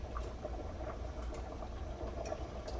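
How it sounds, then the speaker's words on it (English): Chicken and dumpling broth at a rolling boil in a pot with salted butter and a bouillon cube, giving a steady low bubbling patter with faint pops, close and continuous. "Can y'all hear it boiling?"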